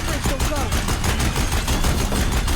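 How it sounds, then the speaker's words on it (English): Deathbringer war machines fire their guns at a bridge in Horizon Zero Dawn: dense, loud rapid gunfire with heavy low booms, continuous throughout, with a voice talking underneath. "If the Deathbringers keep firing, this bridge will"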